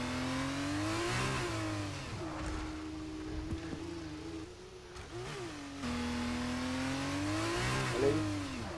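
A Formula 1 car engine in the F1 23 racing game screams and revs as the car spins, pitch swooping up and down in waves, dipping briefly mid-spin before roaring back, loud and alone.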